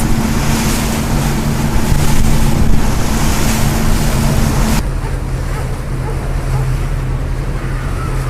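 A large tour boat cruises on the river in the Upper Dells, its steady engine drone and rushing water mixed with wind buffeting the microphone, loud and continuous with a shift in tone midway.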